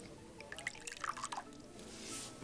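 A drink is poured into a glass, a short burst of liquid splashing and dripping that stays quiet and close, with no talking over it.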